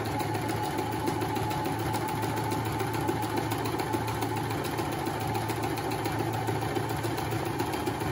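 AEG NM 510 sewing machine running continuously, a close, fast rhythmic mechanical whirr and clatter with steady motor hum, even in loudness throughout.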